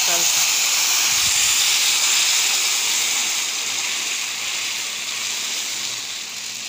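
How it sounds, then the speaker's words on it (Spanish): Green salsa sizzles and hisses loudly in the same frying pan used for chicken patties, a steady broadband fry that eases slightly over several seconds with no talk. "vamos a freír la salsa verde"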